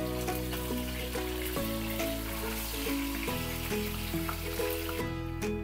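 Pompano fish fries in a pan of oil with a continuous, dense sizzle like light rain, heard close and steady under prominent background music for about five seconds.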